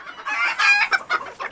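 Chickens being caught by hand let out agitated, close squawks and clucks in a short flurry of overlapping calls.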